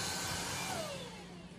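A Xiaomi Mi Vacuum Cleaner Light runs steadily, a broad whirring motor roar with a faint whine gliding downward, tapering slightly toward the end, with no talking.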